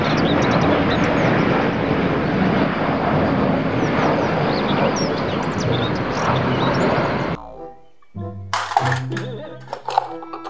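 A broad, steady roar of an airplane engine fills the air for several seconds, then fades and gives way to other brief sounds.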